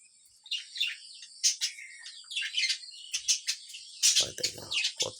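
Japanese budgerigar chicks and their mother chirp close by in rapid, overlapping high tweets and squawks, with a few lower rustles near the end and no talking.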